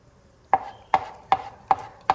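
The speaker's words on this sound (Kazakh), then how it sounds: "Одан кейін қайнатылған жұмыртқамызды да соломка қылып тураймыз." Boiled eggs are cut into thin strips on a board, five crisp knife chops at a steady unhurried rhythm, close and clear over a quiet background.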